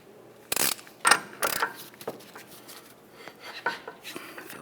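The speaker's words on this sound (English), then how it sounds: "So I'm just using a ratchet." Hand ratchet clicking on the rear hub nut of a 2015-2019 Subaru Outback during a wheel bearing job, a few sharp metallic clacks and clicks spaced irregularly, fairly quiet and close.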